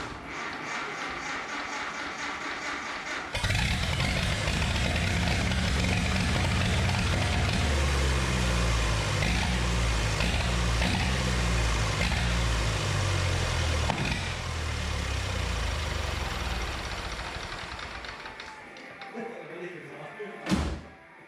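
The diesel-fuelled engine of a 1929 Ford Tudor hot rod rumbles loudly and steadily for most of the clip, then slows and fades, ending with a sharp clunk.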